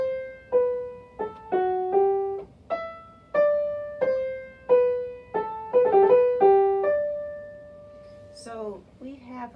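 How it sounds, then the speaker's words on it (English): A bowed string melody from a string quartet's theme and variations movement plays alone in clear, stately phrases of sustained notes, moving steadily through a slow hymn-like tune before a brief higher flourish. "for the theme and variations movement of the string quartet, Opus 76, number 3, by Haydn"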